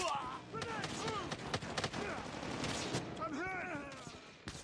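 Gunfire during a shootout in the video game Call of Duty, dense bursts of shots and impacts throughout, with a person talking over the fighting.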